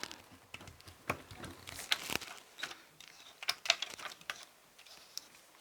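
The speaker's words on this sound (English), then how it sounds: "we just screw this part to the tripod like so." A Blue Snowball microphone is screwed onto its tripod stand, giving close, quiet ratcheting clicks and scraping turns in uneven bursts, no voices.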